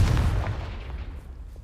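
A Confringo blasting spell in Hogwarts Legacy goes off with a heavy, booming explosion that starts loud and rolls away over a second or so, leaving a fading rumble.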